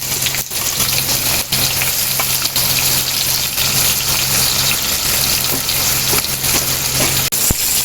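Chopped onion goes into hot oil with whole cumin seeds and fries in a loud, steady, close sizzle that holds without a break, with occasional soft clicks of stirring and no talking.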